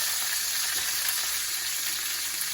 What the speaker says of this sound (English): I'm going to add in my green peppers